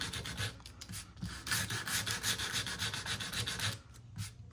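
Wood is sanded by hand with 80 grit sandpaper on a dry shaker table build, giving rapid repeated rasping strokes, close and steady, with no talk.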